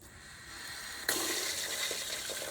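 Water from a freshly installed pet rehydration station, turned on to flush out drilling sediment. The fixture opens with a sudden gush, then runs as a steady splashing stream close by, with a few small knocks after it.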